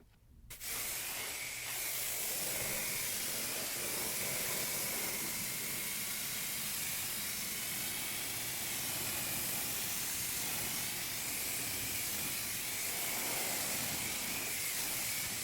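Pressurized water spray rinses the face of a car wheel: a steady, loud, close hiss that runs unbroken for the whole stretch, with no talking.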